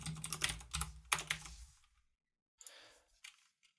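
Quick bursts of clicky keystrokes on a computer keyboard while writing C# code, a dense flurry first, then a pause and a few lighter taps, close and alone.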